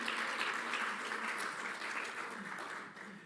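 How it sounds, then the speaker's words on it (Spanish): A church congregation applauds during a sermon, a soft, distant wash of clapping holding steady for a few seconds. "Dale un aplauso a Dios, porque esto merece un aplauso a Dios."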